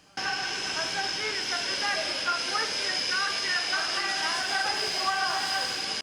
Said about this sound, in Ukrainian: На станцію прибуває умовно палаючий потяг.